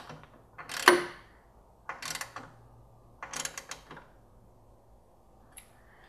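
Ratchet tightening engine mount bolts in the engine bay of a MK7 Volkswagen GTI: three bursts of rapid metallic clicking separated by short pauses, close and distinct, then a faint final click.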